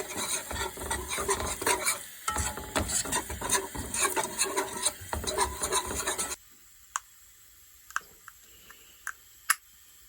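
Onion rings cook in a beef liver gravy, with busy scraping stirs and a light sizzle for about six seconds, then quiet with a few sharp clinks.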